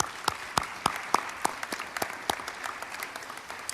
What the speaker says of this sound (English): So a round of applause for the Renaissance.